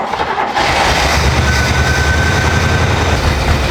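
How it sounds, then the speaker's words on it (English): A rare GMC truck engine cranks and then runs on its carburetor, roughly and not quite smoothly, with a loud, continuous mechanical drone that starts abruptly after a short pause. "now we're gonna crank the motor over and make sure that this is kind of coming out clean"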